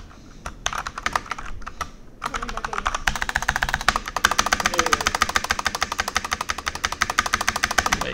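Fingers type briskly on a barebones mechanical keyboard with a battery inside, giving a dense run of sharp, close clacks that quickens after a brief pause and keeps a steady rapid rhythm.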